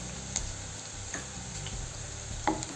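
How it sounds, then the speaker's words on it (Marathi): Spices and paste cooking in a frying pan for a Marathi tondli vegetable dish sizzle faintly. A few soft scraping and tapping stir sounds come through a low background hum. "आणि चांगल्याने फिरवून घेऊ"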